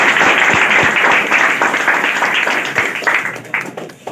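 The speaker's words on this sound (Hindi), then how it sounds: "आप तो जोरदार ताली बजाइएगा सारे विद्यार्थी।" Class 10 students in Kurtha applaud at a prize distribution: a close, dense burst of clapping that holds steady, then thins and fades over about four seconds.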